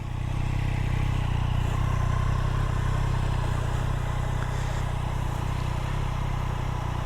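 A 2018 Triumph Street Triple 765 R motorcycle runs with a loud, steady mid-pitched engine drone close by, holding an even level throughout without any talking.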